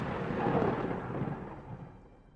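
Rolling thunder from a storm, a single broad rumble that swells early and slowly fades, loud and close with rain-like hiss mixed in, no voices.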